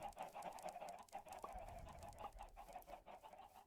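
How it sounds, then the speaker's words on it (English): Minecraft chickens clucking repeatedly in a steady, close, overlapping chorus of short calls, with no talking over them. "those chickens are annoying."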